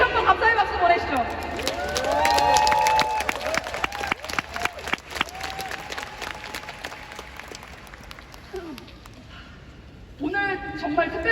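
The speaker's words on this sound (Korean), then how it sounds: "우리 위웨이에 다시 한번 감사의 박수 보내시죠." Audience applause at a leadership training event in Thailand, a fairly faint wash of clapping and crowd noise that thins out and fades, with voices rising over it near the end.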